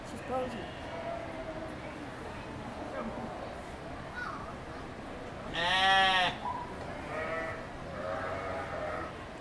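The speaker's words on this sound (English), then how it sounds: "This is a Shetland sheep, small, hardy." A Shetland sheep bleats once, loud and close, at a county fair livestock area, with a person talking softly before and after amid quiet background chatter.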